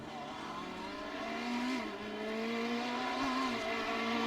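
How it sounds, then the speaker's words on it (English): A Ferrari GT3 race car in a racing video game drones steadily through the Imola pit lane, its engine note rising and dipping slightly, fairly close and with no voices over it. "a pit stop for the Michael Seal Ferrari"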